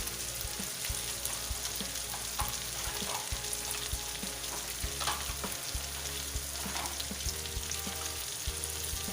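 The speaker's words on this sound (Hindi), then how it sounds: "ये देखें मसाला अच्छे से भून रहा है" Spice masala sizzles in a pan with a steady, even frying hiss and faint stirring scrapes, a low hum running underneath.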